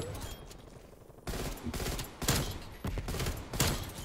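An M16 fires in bursts in a Call of Duty match, several rapid volleys of close, sharp automatic gunfire separated by short pauses, loud and dense.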